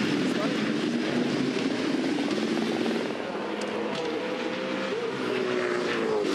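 Supercars V8 race cars from the 2014 Adelaide 500 streaking past spectators at close range on the Adelaide Street Circuit, a steady loud engine roar with rising and falling whine as the cars go by.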